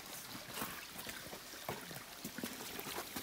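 Forest creek water trickles and splashes over rocks close by, an uneven gurgling flow with small irregular splashes and a brief louder knock near the end, no voices.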